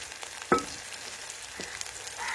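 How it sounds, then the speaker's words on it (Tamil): Onions and green chillies for a tapioca root fry sizzle in hot oil, a steady close hiss with one sharp clink of the utensil near the start. "இப்போ வெங்காயத்தை கொட்டுறேன்."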